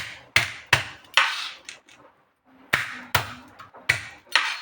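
Garlic cloves being crushed to loosen their skins, a series of sharp, loud smacks on a kitchen surface, three quick blows, a short pause, then four more in a steady rhythm.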